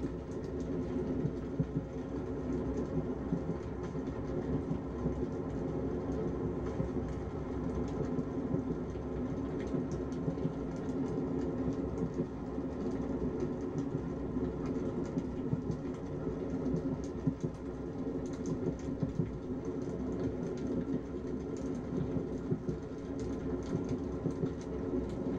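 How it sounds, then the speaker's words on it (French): A night train glides steadily along the rails, a continuous low rumble and rattle of wagons that stays even and close throughout, with no voices. "le bruit du train entre ciel et terre qui glisse sur les rails"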